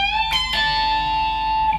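A rock lead lick on electric guitar, played an octave up with string bends, comes through as a brief, bright, sustained note ringing out after two quick picked attacks, close and clear for under two seconds.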